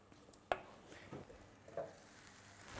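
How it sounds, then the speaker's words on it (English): Seared oyster mushrooms are mixed with lime juice and a glaze in a pan, giving a few soft, wet stirring scrapes and squelches over a faint sizzle, quiet and close. "just mix it all together"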